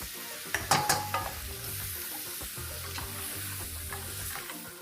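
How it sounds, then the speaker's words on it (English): Onions, tomatoes and cashew nuts sizzle in butter in a pan, with steady frying hiss under repeated scraping and clinking stirs from a utensil, close and without talk. "Next goes in roughly cut tomatoes, and along with this we're going to add in some cashew nuts."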